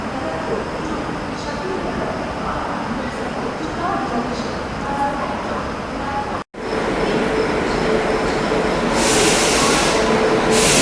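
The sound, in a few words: Patna Tejas Rajdhani Express train arriving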